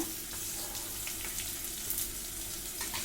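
Chopped onion and garlic paste frying in a pan over lowered gas flame, producing a steady, moderately quiet sizzle with faint crackles throughout a short stretch.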